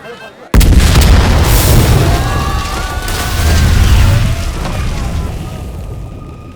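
Loud bomb blast in a Hindi-dubbed action movie scene: a sudden heavy boom followed by a sustained roar of rumbling debris and crackling that swells again midway before slowly fading.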